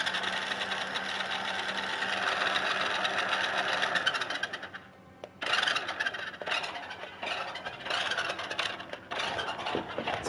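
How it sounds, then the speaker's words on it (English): A Ferrari combustion engine runs with a loud, high-pitched sustained whine and squeal, dropping off briefly midway before surging back at full strength. "it's a Ferrari engine."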